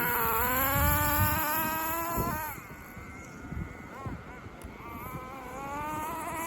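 An HPI RS4 nitro RC car engine revs with a buzzing, high-pitched whine that climbs and drops as the car drives around outdoors. The sound fades somewhat as it moves farther away, then comes back steady. No one speaks.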